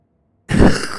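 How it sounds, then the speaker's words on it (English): A single rough, close cough or throat-clearing burst in Alan Wake II, sudden after silence and then trailing off. "Or the coughing."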